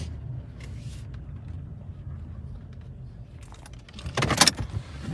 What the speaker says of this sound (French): Il y a une voiture qui fait du bruit.